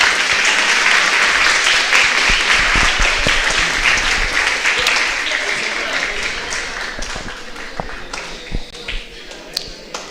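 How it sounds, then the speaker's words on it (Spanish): Applause from an audience at a philosophy congress honoring a guest speaker comes through as a thick wash of clapping. It begins loud and then slowly fades, with a few scattered claps and taps lingering near the end. "Un fuerte aplauso para él, por favor."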